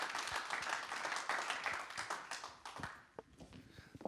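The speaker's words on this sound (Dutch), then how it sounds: "Geef hem een groot applaus." Audience applause at a Dutch local award evening honouring the starter of the year, a dense burst of clapping that thins out toward the end into scattered claps.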